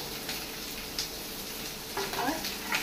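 Spring onion whites and prawns fry over a high flame in a pan, giving a steady broadband sizzle with a few brief stirring scrapes near the end, close and moderately loud with no talking.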